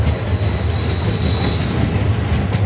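The Haldia superfast express runs steadily on its line through open country and woodland, giving a continuous low rumble with faint wheel clatter and a thin high whine. Nobody speaks.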